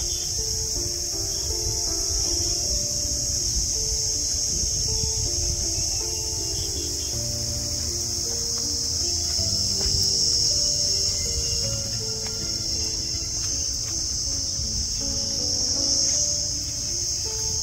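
Crickets chirp steadily in clear daytime in the Sundarbans mangrove forest, a dense continuous insect drone with faint birdsong mixed in and no talking.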